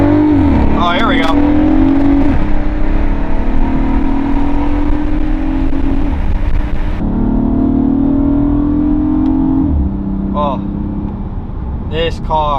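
A lowered Volkswagen Passat driving along, its engine humming steadily and rising and falling in pitch as it shifts, with brief squeaks and some talk from inside the car.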